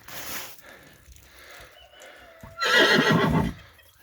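A draft mare neighs loudly up close in one strong whinny, after a quieter stretch of faint snorting and shuffling.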